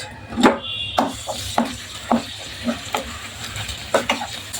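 Four tablespoons of onion paste sizzle in hot oil in a pan while a spoon stirs it in repeated scraping strokes, close and clear, with no voices.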